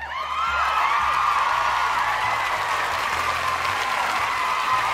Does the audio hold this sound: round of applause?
yes